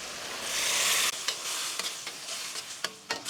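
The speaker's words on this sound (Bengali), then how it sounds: "এখন আমার গ্রেভিটা হয়ে গিয়েছে আমি ছোলাটা দিয়ে দিচ্ছি" Chickpeas tipped into a pan of finished gravy for chana masala, a broadband sizzle for about a second, then a series of soft stirring scrapes and clicks against the pan while it bubbles more quietly.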